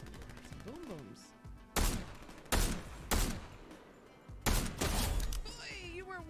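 Video game gunfire during a livestream: several loud, sharp bursts of shots ring out in separate volleys, each rising abruptly over a steady background of game sound and music.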